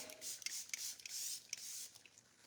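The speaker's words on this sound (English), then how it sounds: "You can spray it just on your face in the middle of the day." A facial mist spray bottle gives a quick series of soft, hissy spritzes close to the microphone in a quiet room, about six short bursts in a row.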